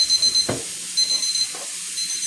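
A kitchen timer beeping during the cooking of bean stew, several faint, high electronic beeps in short bursts over a quiet kitchen background with a soft sizzle and a brief thump.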